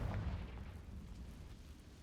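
A Confringo spell explosion in the Hogwarts Legacy video game, a deep, muffled low boom that hits at once and then rumbles away over about two seconds, with no talking.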